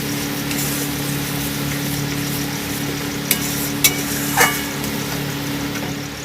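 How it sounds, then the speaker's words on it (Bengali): Kashmiri chili masala and tomato paste are stirred in a pan over a steady, hissing sizzle, with a few isolated scrapes and taps of the utensil near the middle. "দিয়ে আমি ভালো করে নাড়িয়ে আপনাদেরকে দেখাচ্ছি কেমন হয়েছে।"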